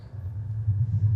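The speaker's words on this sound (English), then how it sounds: "That's the sound of the wind blowing on the plant." Wind buffets a plant in a contact recording, heard as a low, rumbling throb that swells and eases in soft gusts, fairly loud and close, with no voices.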